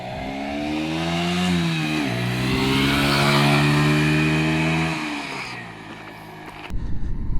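A 2020 Sinnis Blade X 125 motorcycle engine revs hard while riding off-road, its buzzing drone rising and shifting pitch through several gear changes before easing off, then ending in rough, close bumps and rattles.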